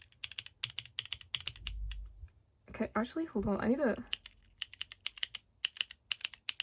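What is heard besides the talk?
clicking a keyboard switch from album merch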